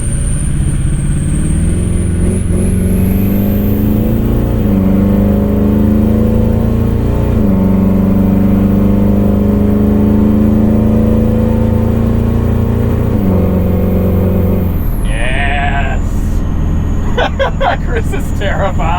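A 2003 Ford F-350 Super Duty King Ranch with the 6.0 Powerstroke diesel accelerating flat out. The engine drones loud and close from the cab as the revs climb through the gears, with voices speaking over it.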